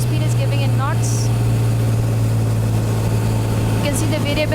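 An aircraft engine runs continuously with a steady low drone and slight shifts in pitch as its RPM varies, loud and close, with faint voices and a couple of short chirps over the top.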